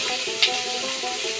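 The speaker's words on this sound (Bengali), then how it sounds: "সিদ্ধ করে রাখা পেঁপেটা এবার আমি এর ভিতরে ছেড়ে দেব।" Boiled papaya added to a hot pan in a village kitchen, a short burst of close sizzling with a quick bright crackle as it goes in, no talking.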